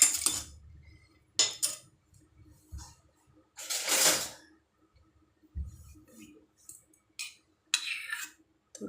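Metal utensils handle an appe pan during oiling in a home kitchen. Sharp clinks and scrapes come in scattered bursts with quiet gaps between them, close and fairly faint.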